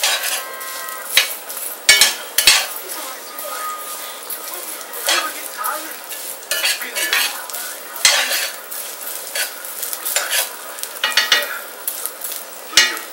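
Meat browning in olive oil for carne adovada, a steady loud sizzle and crackle in a pan with repeated stirring scrapes and utensil clinks, close up and with no talk.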